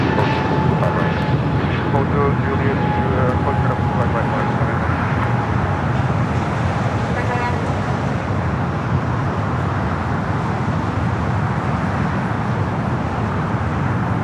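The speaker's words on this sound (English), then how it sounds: "that Hawaiian A330 also going to be taking off here shortly." An Airbus A330 jet rumbles loudly and continuously at LAX ahead of a Hawaiian Airlines takeoff, a broad steady engine roar that fills the whole stretch, with a commentator's voice talking over it.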